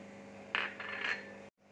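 Oats go into a mixer jar with a close, light pattering rattle lasting about a second, then sudden silence.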